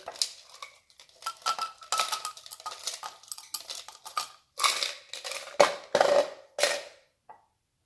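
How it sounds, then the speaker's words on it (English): Ice cubes are poured into a glass while making a mojito: a string of clattering, clinking bursts, scattered at first, then louder grouped tumbles before it stops. "pour some more ice cubes here"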